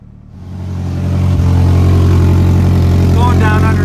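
A car engine fitted with a Motec system performance muffler, its exhaust leaking at a joint, rumbles loudly at idle, swelling up from a quiet start into a steady, throbbing drone with a faint voice near the end.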